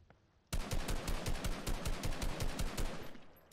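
Rapid automatic gunfire in a video game bursts in suddenly and runs as a fast, loud, evenly spaced stream of shots for about three seconds before easing off.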